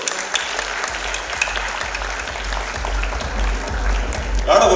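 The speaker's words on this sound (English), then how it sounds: "Round of applause, guys" An audience applauds as actress Rani Mukerji is welcomed on stage at the FICCI Frames 2024 event: steady crowd clapping runs the whole stretch, with a low rumble beneath and a brief swell at the end.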